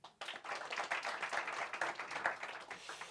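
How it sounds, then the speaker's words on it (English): Warm applause from a press conference audience welcoming veteran South African distance runner Stephen Mukoka, a steady wash of clapping hands that swells briefly and carries on through without talk. "let's give a warm round of applause for the veteran of South African distance running"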